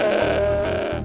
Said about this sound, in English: Look, there are 3 goats.